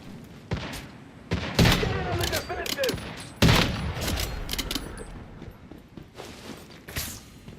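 Rapid bursts of fire-gun shooting in the video game Once Human crackle and pop in clusters, loud and close, with intermittent impacts and a mix of game effects between the volleys.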